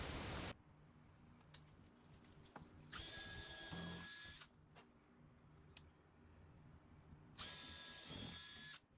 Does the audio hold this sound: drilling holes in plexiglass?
yes